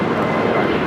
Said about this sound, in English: This is Viva Airbus 623 taking off to Monterrey on an A321 Neo.